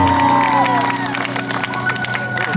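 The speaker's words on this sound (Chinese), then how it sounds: "再一次给我们的漂亮的主持人热情的掌声。" A crowd at an outdoor evening concert gala in Wanluan, Pingtung, gives the host warm applause, a broad wash of clapping with cheers and whoops over lingering music and amplified voice.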